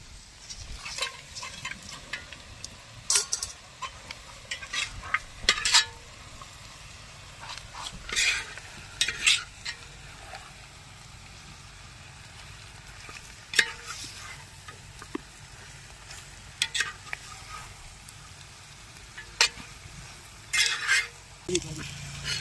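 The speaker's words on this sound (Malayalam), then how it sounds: "ഇനി ഇതിനകത്തോട്ട് നമുക്ക് ചിക്കൻ വറുത്ത് വെച്ചേക്കുന്നത് ചേർത്ത് കൊടുക്കാം." Quiet sizzling in a pan as fried chicken is stirred into masala, with repeated scrapes and clinks of a spoon in irregular bursts.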